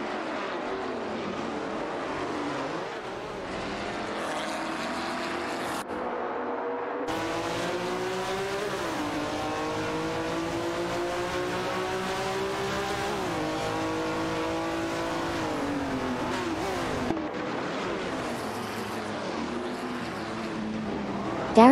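Ford GT40 MP and Porsche 908 AH Coupe race cars dueling for position on a circuit, their engines a loud, continuous roar with rising and falling revs as they shift, running steadily close throughout with a brief cut near the start.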